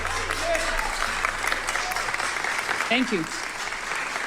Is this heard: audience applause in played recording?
yes